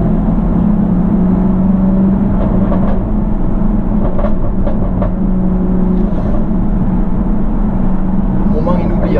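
An SVR supercar accelerating hard, its engine roaring loud and constant from inside the cabin as the revs climb. People talk over the noise for part of the run.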